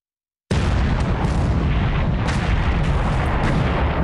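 A tanker struck by submarine torpedoes in the wartime strategy game War Plan Orange bursts into a loud, deep explosion that kicks in abruptly and rumbles on with crackling debris, sustained and heavy to the end.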